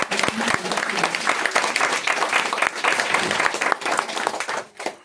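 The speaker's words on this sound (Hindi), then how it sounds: "तो एक बार जोरदार तालियां होकर" An audience at an Ayurvedic wellness product training session breaks into loud, sustained applause that holds steady for several seconds, then drops off abruptly at the end.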